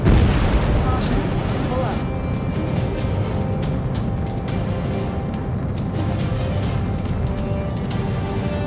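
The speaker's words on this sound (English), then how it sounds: "We're taking fire from multiple enemy tanks" Enemy tank cannon fire and explosions in Ace Combat 7, a loud opening boom followed by continuous rumbling battle noise with sharp repeated blasts, under radio chatter.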